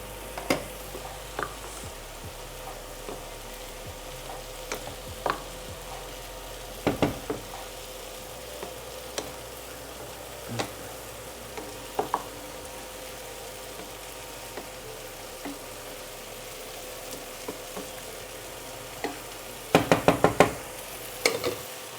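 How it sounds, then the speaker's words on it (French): Onion compote frying in a pan gives off a low, continuous sizzle, broken by occasional soft knocks and scrapes of stirring, with a brief cluster of louder clatter near the end. "Je vais quand même mélanger un peu."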